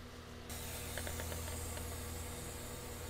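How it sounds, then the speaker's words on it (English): A pump sprayer hisses steadily as it atomizes white fly spray over plants, a continuous close broadband spray that starts abruptly and holds unbroken, with faint clicks underneath. "all I'm going to do is pump this up more. And let it sit. And it really atomizes the stuff here."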